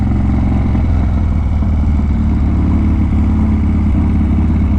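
A dirt bike's engine revs hard and loud and close, a steady roaring drone with a rattly edge that holds for the whole stretch, no voices over it.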